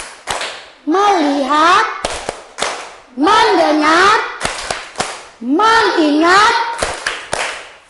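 Classroom ice-breaker focus clapping, a group of children chanting words then answering with quick rhythmic bursts of hand claps, repeated three times in a close, loud cycle.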